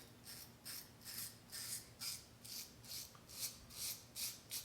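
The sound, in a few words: razor skimming against the grain while shaving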